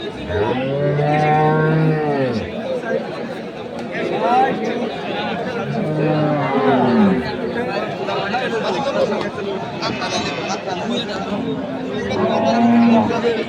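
Dairy cows and calves at a cattle market in Khochabari, Thakurgaon, letting out several long, loud moos close by, one after another, over constant crowd chatter and nearby talk.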